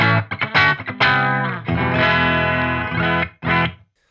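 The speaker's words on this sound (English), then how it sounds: "But then full on, just very nice forward, good sound." A Balaguer Espada Limited electric guitar plays through distortion, loud and close, with a few sharp chord stabs, a sustained ringing chord and a final short burst, with no talking.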